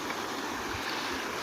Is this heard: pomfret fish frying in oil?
no